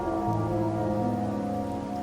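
Steady rain falling in the video game Wuthering Waves, a continuous dense patter under a sustained tonal music bed, with no talk.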